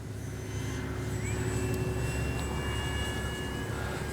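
An X-Fly Spitfire RC warbird model plane flies a go-around, its engine a steady, continuous drone with a faint rising whine, held at even loudness throughout.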